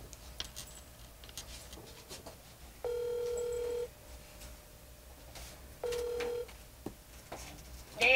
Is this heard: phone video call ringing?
yes